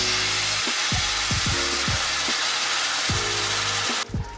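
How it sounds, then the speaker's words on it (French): Vegan chili sauce in a hot pan after red wine goes in to deglaze, giving a loud, steady hiss of sizzling with repeated scraping strokes of a utensil stirring across the pan, close up. "on va déglacer avec un peu de vin rouge"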